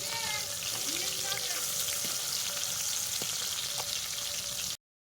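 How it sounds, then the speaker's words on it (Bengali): Steady, bright sizzling of rohu fish frying in oil fills the clip, with faint clinks and a voice in the background before it cuts off. "তো মাছগুলো আমি উপাসটা উল্টে আবার ভেজে নিই।"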